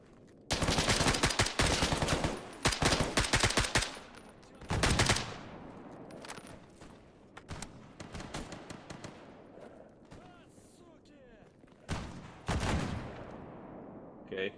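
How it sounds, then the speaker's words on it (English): Heavily armored bandits trade gunfire in the game S.T.A.L.K.E.R. GAMMA, loud dense bursts of automatic and single shots in the first five seconds, then scattered shots at a distance and another close burst near the end. "Okay, who's shooting to the side there?"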